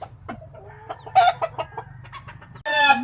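Rooster at a gamefarm in San Jose, San Isidro, Leyte, giving short clucks and then a loud close crow near the end, over a low background hum.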